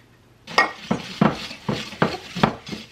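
Cookie dough for triple chocolate chip cookies is scraped and mixed in a bowl, giving about seven distinct scraping strokes in a steady rhythm at close range with no talking.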